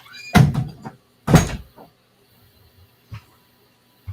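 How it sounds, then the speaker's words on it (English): Someone closes a door nearby, two solid thumps close together with a brief rattle, then faint knocks and quiet. "So, I gotta close my door."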